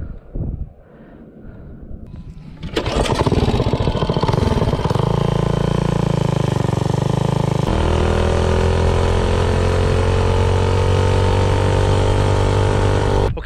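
A minibike with a Predator 212 engine and a 30 coil gap runs flat out at about 60 mph, a loud, sustained engine drone mixed with heavy wind buffeting against the microphone. It is constant and close, with no talk.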